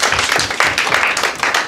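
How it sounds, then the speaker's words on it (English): A church youth service audience claps hands in a quick, even rhythm, close and loud, with no talk over it. "Clap your hands for Adrian."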